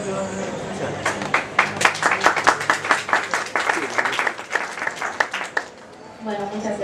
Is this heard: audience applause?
yes